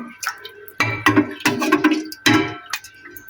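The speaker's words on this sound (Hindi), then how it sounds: "2 गिलास पानी मैंने इसमें डाल दिए हैं।" Ice-cold water with ice is poured from glasses into a pot for Kashmiri pink tea, giving close, bright splashes and clinking ice in several bursts.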